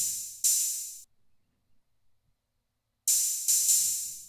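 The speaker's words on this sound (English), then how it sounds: "After that is this open hat." Isolated open hi-hat from a trap beat, a bright sustained sizzle struck once, then silence, then two more hits close together, each ringing briefly and loud with nothing else playing.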